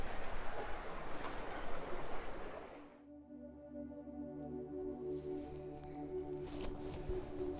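Choppy sea waves slosh and wash around a sailing boat in the Channel, first as loud turbulent splashing and wind rush, then a steadier low churn with a tonal hum beneath as the boat moves through the water.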